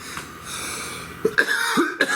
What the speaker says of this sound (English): There's the first cough in a reading today.